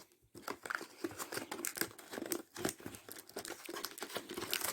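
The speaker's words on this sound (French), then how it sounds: "Donc, on ouvre la boîte." A small cardboard box holding a Xiaomi TV Stick is opened and unpacked up close. Busy crinkling, rustling and tearing of packaging continues throughout at low volume, with no talking.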